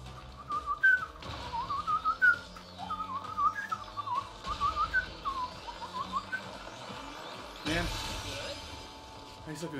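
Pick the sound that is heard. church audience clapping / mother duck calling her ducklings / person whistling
person whistling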